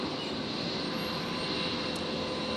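A New Zealand jet taking off from runway 01 right at Brisbane Airport, heard as a steady, broadband engine roar that holds loud and continuous throughout without any talk over it.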